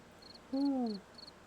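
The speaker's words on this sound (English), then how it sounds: "there's those crickets I was talking about" Crickets chirp in short, evenly spaced bursts at a steady rhythm, faint and distant, while a low hooting call rises briefly in the middle.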